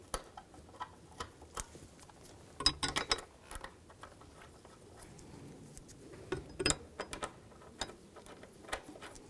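A ratchet tightens bolts on the fuel pump assembly of a 2013-2020 Nissan Pathfinder, giving faint, irregular bursts of quick clicking with short pauses between runs.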